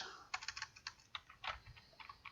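Quick, irregular bursts of keystrokes on a computer keyboard, close and fairly quiet, entering a localhost address with a low room hum underneath and no voices.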